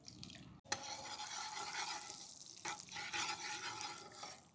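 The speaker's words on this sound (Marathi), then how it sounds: "आता आपण इंदोरी पोह्यांना तडका देऊन घेऊ।" Mustard seeds, cumin and fennel sizzle and crackle in hot tempering oil for Indori poha, a dense, steady frying hiss with a short break near the start, heard close and alone.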